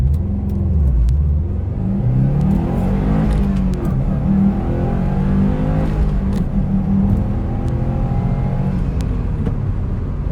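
A Dodge Hellcat of about 1000 hp launches from 0 to 60 on a street, its engine a loud, continuous roar that climbs steadily in pitch with a rising and falling whine under the rush of speed.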